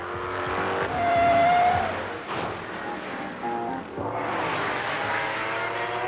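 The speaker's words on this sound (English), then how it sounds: "In contrast to a Formula One car, which seemed to literally flit around corners, the 5000 style is broad and thunderous" Formula 5000 race cars roar past in a broad, thunderous rush, engine note swelling loud then easing before another car surges through, with a brief tire squeal in the mix.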